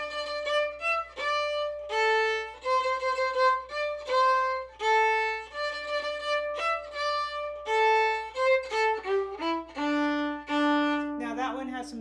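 Solo violin playing the melody of the fiddle tune Goin' to Boston, clear and close, a steady run of bowed notes in a lively rhythm with short phrase breaks, ending in a quick flourish.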